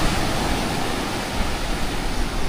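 Rough, wind-driven sea waves breaking at Diniwid Beach, Boracay during habagat season, a loud continuous roar of surf mixed with wind, close and steady with no voices.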